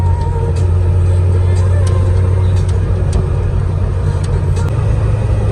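A Suzuki Jimny Katana in fourth gear on a wavy, bumpy toll road gives a loud, constant low engine and road rumble inside the cabin with faint small knocks.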